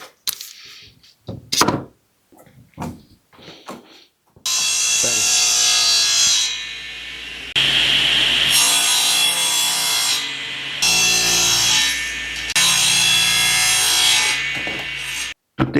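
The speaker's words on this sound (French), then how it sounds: "Une fois que c'est sec, eh ben, un petit peu de ponçage" Wood panels for a sausage drying cabinet are sanded, with a few scraping strokes and knocks before a loud, steady rasping hiss that runs for about eleven seconds, rising and falling in long passes.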